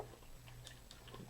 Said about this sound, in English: once you start chewing on it, then it just sort of dissolves